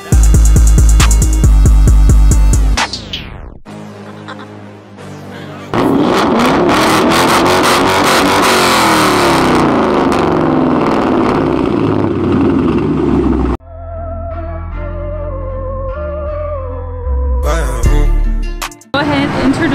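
A 2015 Dodge Challenger SXT with a six-speed manual revs loudly in bursts, its engine note rising and falling with short pauses between pulls, and some music-like tones play alongside.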